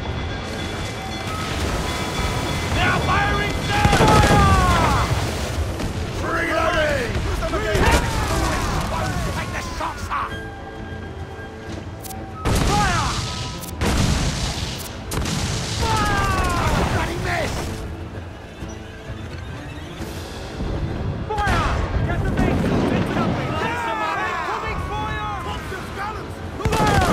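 Ship cannons boom repeatedly during a naval battle in the video game Assassin's Creed IV Black Flag, loud broadband blasts in several clusters, with voices shouting and talking between and over the volleys.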